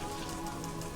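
Steady rain in the zoo-building video game Planet Zoo, a continuous even hiss of drops, brief and without talk.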